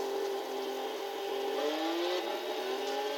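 Volkswagen Golf IV R32 engine in Gran Turismo 6, a steady loud mechanical drone whose tones glide upward as it accelerates, close and continuous throughout with no talking.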